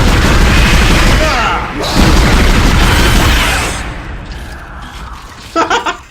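Sustained machine-gun fire in the Dead Space video game rattles loudly and continuously for several seconds, then drops away into quieter game ambience with a few closing thuds.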